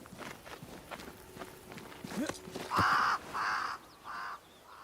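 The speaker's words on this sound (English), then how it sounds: "crows. They flock to that great tree up there." Three loud, close crow caws ring out in the game Banishers: Ghosts of New Eden, each a harsh, evenly spaced call, after a stretch of soft footsteps.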